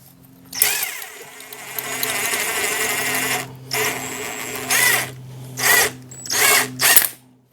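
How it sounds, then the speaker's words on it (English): An impact gun tightening the rear shock spring on a second-generation Toyota Prius rattles in a long loud burst, then fires in several short, sharp bursts separated by brief pauses, close up and with no talking. "I'm going to do that with the impact gun"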